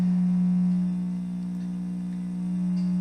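Steady low test tone played through a homemade party speaker driven to about 10% distortion, a constant buzzing hum with slight swells in level and faint harmonic grit, heard alone.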